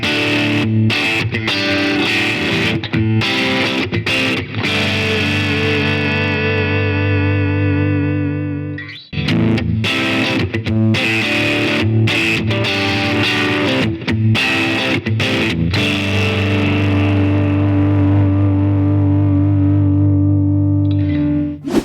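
Jet JS400 electric guitar played through its humbucker pickup with a dark, muddy tone, dense sustained chords and riffs with distortion, loud and continuous apart from a brief break near the middle.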